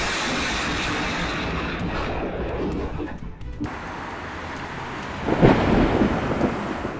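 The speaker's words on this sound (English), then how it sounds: "A thunderstorm hits Nîmes, lightning illuminating the entire sky, a movie-like scene as nature decides to turn the lights up to full power." Thunder from a thunderstorm over Nîmes, a loud broad rumble rolling on for several seconds, easing briefly and then swelling again with a sharper crack-like burst near the end.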